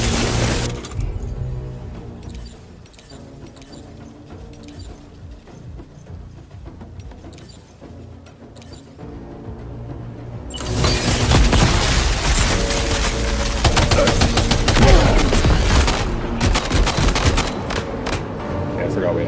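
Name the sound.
machine gun fire in a video game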